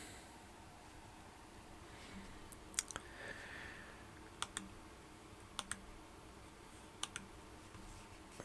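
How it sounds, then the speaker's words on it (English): During a digital art livestream, a computer keyboard and mouse give off sparse, sharp clicks, a few isolated taps spread over a faint, hushed room background. "Apologize for all the clicking sounds."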